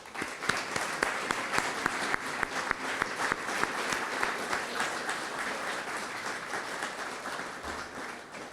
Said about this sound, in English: Please give a big round of applause to Hiawatha's 2025 Fay Clark Award winner, D